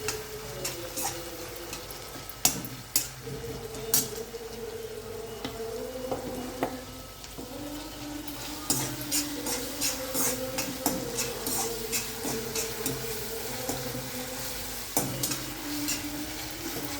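Onion frying in a pan until pinkish for paneer bhurji, stirred with a spatula: a steady sizzle broken by repeated scraping and clicking strokes against the pan, close up, with a faint tonal hum underneath and no voices.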